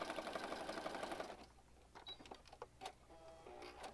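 A sewing machine stitches around a corner, a quick burst of rapid mechanical whirring for about a second and a half, then a few soft clicks and taps of fabric handling, close and quiet.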